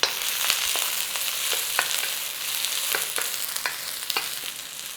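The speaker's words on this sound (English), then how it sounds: "I'm going to chuck those shallots in there, and we're going to give those a cooking" Shallots frying in oil in a pan for nasi goreng, a steady bright sizzle and crackle with scattered sharp pops and the odd stir scrape, close and alone with no voices.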